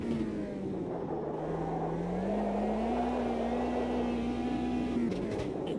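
Race car engine in the Automobilista 2 racing game holding a steady, droning tone that slowly climbs in pitch, loud and continuous with no talk, then dips briefly near the end as revs shift.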